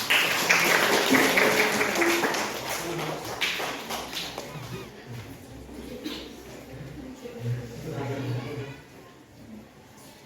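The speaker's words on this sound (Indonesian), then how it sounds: "Tepuk tangan dulu dong." Classroom applause during a school teaching-practice session, a broad clatter of clapping that is loudest at the start and thins out over the next few seconds, with students' voices and chatter mixed in.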